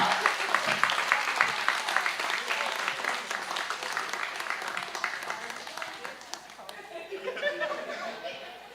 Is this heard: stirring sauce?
no